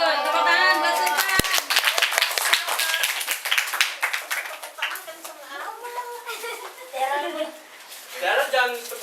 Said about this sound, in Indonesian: Tepuk tangan buat Sultan.